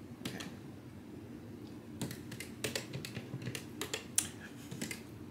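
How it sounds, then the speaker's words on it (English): Keys clack on a TRS-80 MC-10 Micro Color Computer keyboard, short sparse bursts of close, quiet taps with uneven pauses between them. "There's a reason I'm not in charge of typing this."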